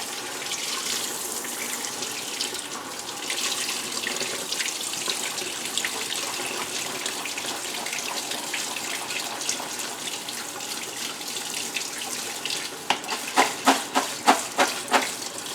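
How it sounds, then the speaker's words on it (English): Canned red kidney beans are rinsed under a running kitchen tap, a steady splashing stream of water with sharper spattering bursts near the end. "We're draining some white red kidney beans to go in our taco salad. And we're also rinsing them."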